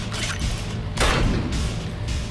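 An explosion in the video game Bunker Punks 2 bursts out as a loud, broad blast about a second in, after a dense rumbling clatter, then fades into a noisy tail.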